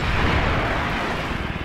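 Katyusha rocket artillery fires in Company of Heroes 2, a dense, loud, continuous roar of launches and blasts filling the whole stretch with a steady rumble.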